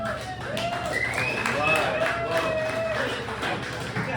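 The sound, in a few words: audience applause introducing the comedian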